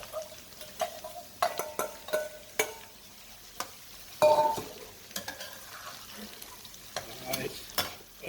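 Onions fry in a pan with a soft sizzle under scattered scraping and stirring clicks from a utensil against the pan, fairly close and at moderate volume.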